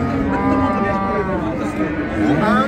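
Cows mooing at a Friday livestock market in Pastdargom, Samarkand, where mother cows and calves are sold. Long, drawn-out moos come one after another, fairly close and loud, with crowd chatter around them.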